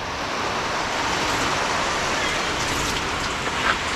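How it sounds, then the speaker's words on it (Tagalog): Heavy rain pours steadily onto surfaces outdoors, a dense, constant wash of hiss and patter with no voices, loud and unbroken throughout. "Medyo malakas-lakas din po yung ulan, no?"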